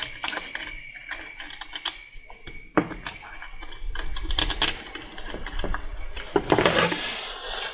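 T-handle tightening bolts on a C4 transmission valve body, up close: a run of sharp metallic ratcheting clicks and clinks, loud and irregular, with bursts of rapid turning and no talking.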